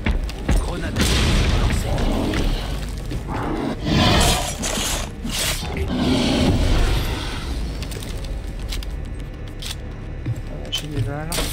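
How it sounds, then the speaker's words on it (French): A grenade blast in the video game Rainbow Six Extraction comes as loud, booming, shattering bursts that carry on amid continuous gunfire-like crashes and game noise, with someone talking over the action. "Grenade."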